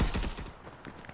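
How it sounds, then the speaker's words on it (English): Minigun firing in Fortnite, a quick rattling burst of rapid shots that fades within about a second. "that minigun is fantastic"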